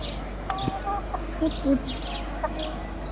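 A hen clucks in short, scattered bursts of soft, close calls with brief chirpy notes, over a low steady background hum.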